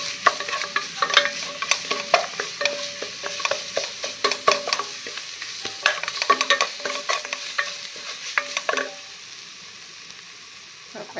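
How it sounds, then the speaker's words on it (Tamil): Ginger garlic paste with curry masala is sautéed in a pan for chicken biryani, bright sizzling under frequent rhythmic scraping of a spatula, the stirring fading out near the end. "நல்லா கறி மசாலா போட்டுக்கலாம். நல்லா இஞ்சி பூண்டு பேஸ்ட் நல்லா வதக்கணும்."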